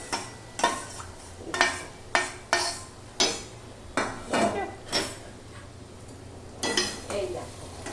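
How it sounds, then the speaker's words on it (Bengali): Fried okra being stirred into a sesame and mung bean paste in a pan, a run of sharp spoon-on-pan scrapes and clacks in irregular rhythm over a low sizzle, close and moderately loud. "এই ভেন্ডিটা এর মধ্যে ঢেলে দেবো।"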